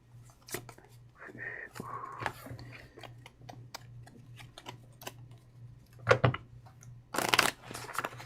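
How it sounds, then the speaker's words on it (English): Megaman trading card game cards being shuffled close by: a short, loud riffling burst near the end, after scattered light clicks and taps over a steady low hum, with no voices. "Get a little shuffle on here"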